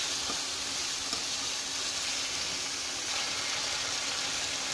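Spice paste for a Bengali fish curry with Malabar spinach fries in oil, giving a steady, close sizzle with faint crackle throughout and no voices.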